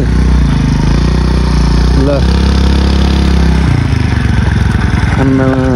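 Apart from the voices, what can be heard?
scooter engine while parking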